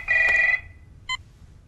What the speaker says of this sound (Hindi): अबे फोन बज रहा है